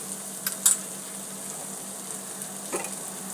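Spices sizzle and crackle softly in oil on a tava while soybean is stir-fried, a steady low frying hiss with a few faint clinks and scrapes of stirring, close and moderately quiet.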